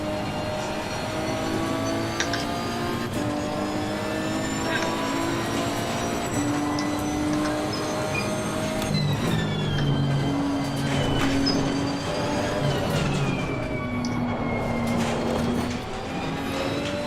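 A Nissan GT-R race car in Assetto Corsa Competizione sings a steady high engine note, its pitch rising and falling through gear changes and corners, loud and continuous with no talk.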